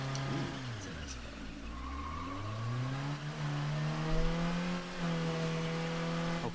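A car in the video game State of Decay 2 drives with a steady engine drone and a long, rising and falling tire skid over continuous road noise, with no talking.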